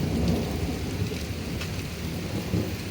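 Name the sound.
thunder and rain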